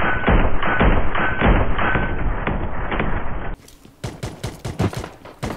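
Gunfire in the mobile battle-royale game PUBG Mobile, loud rapid bursts of shots and thuds, then a quieter stretch of scattered single shots and impacts.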